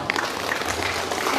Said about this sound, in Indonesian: Oke, tepuk tangan buat Mbaknya.